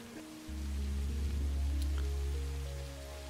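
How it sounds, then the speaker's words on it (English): Rain from the weather effect in Satisfactory sets in after a brief pause, a dense steady patter over a low droning hum, then thins slightly at the end. "it is raining."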